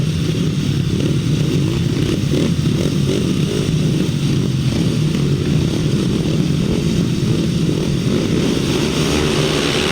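350cc solo grasstrack motorcycles racing the fourth leg of a heat at the 2007 Ledbury Leader grasstrack meeting: a loud, continuous, layered engine roar from several bikes that holds steady throughout, with no talk.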